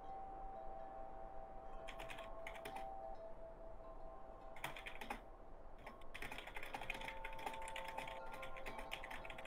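Clicking of a computer keyboard in bursts of quick keystrokes, fairly close but quiet, separated by short pauses over a faint steady hum.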